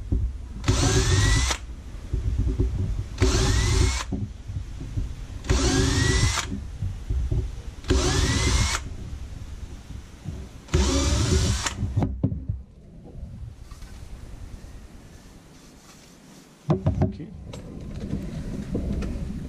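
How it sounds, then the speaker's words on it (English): A power drill with a step drill bit whines in five regular bursts, each about a second long with short pauses between, biting into PVC pipe. Quieter handling noises follow. "So that it's easier to use a step drill."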